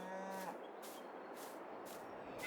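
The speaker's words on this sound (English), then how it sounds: "Hello, cows." Cows mooing in the farming video game Farming Simulator 22, a few long low calls spread across the clip over a steady ambient background, with no talk.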